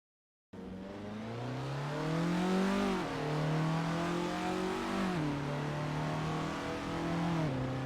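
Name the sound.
Formula Ford race car engine in video game Assetto Corsa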